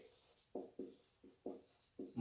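Chalk or marker strokes on a board in a physics classroom, five short scratchy strokes in an uneven rhythm, close and fairly quiet with no voice over them.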